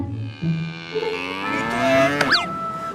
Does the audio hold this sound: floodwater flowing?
no